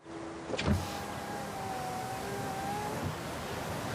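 A parked car's power window whirs open in one smooth motorised hum lasting a few seconds, close and clear over a faint background hiss.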